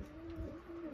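Pigeons coo softly in a loft, a low continuous murmur with a steady tone running through the short stretch, fairly faint against background noise.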